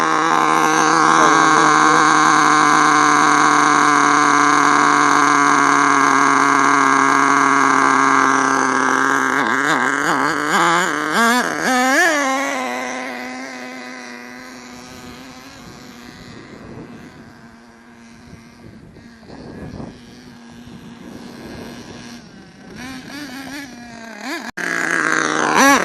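Small HPI S25 4.1cc nitro engine screaming at full throttle with a rich mixture, a loud steady high-pitched whine that wavers and drops off, then sputters lower with occasional revs.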